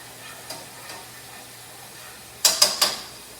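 A turkey chop cooks beside garlic spinach in a pan, giving a faint, steady sizzle that is briefly broken by three sharp clinks of a utensil against the pan near the end.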